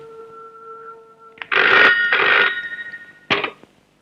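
An office telephone rings in two clear bursts of electronic trilling, followed by a third shorter ring, loud and close over a faint tonal background.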